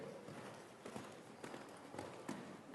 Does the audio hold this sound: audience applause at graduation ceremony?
no